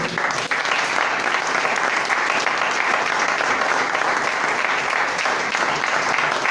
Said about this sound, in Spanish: Den un aplauso